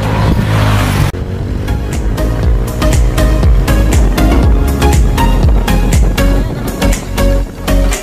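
A motorized tricycle engine drones loudly and close, with a pulsing, rough mechanical note, rising in a burst of revving at first and then continuing steadily over music-like tonal bands, with no talking.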